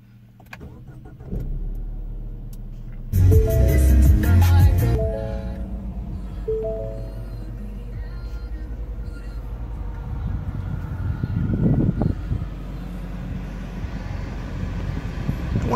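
A 2017 Ford Mustang EcoBoost convertible cranks and fires with a loud, sharp startup burst, then settles into a steady idle hum with a brief rev later on.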